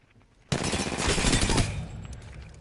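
RE-45 pistol firing in Apex Legends, a rapid continuous burst lasting about a second that trails off into a fading echo, fairly quiet overall.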